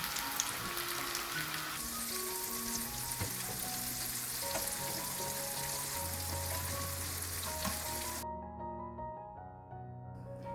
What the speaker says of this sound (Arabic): لما يتحمر معانا القرنبيط كده وياخد اللون الذهبي الجميل ده